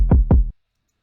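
Two deep, punchy kick drum hits in quick succession in an FL Studio beat, booming close and then cutting off into silence.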